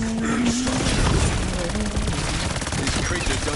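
A point turret in Call of Duty Black Ops 7 Zombies fires a steady, loud, rapid burst of automatic gunfire that runs the whole time, with voices talking over it.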